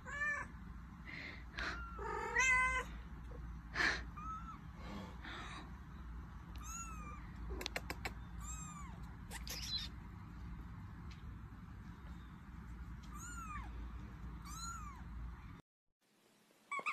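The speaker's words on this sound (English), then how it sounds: "So, Crackhead Kitty has a baby" A young cat meows repeatedly in short, rising calls, fairly close, over a steady low background hum, with a few louder cries and then sudden quiet near the end.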